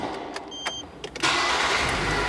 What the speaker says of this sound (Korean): 시동 걸어서 엔진 소리 들으면서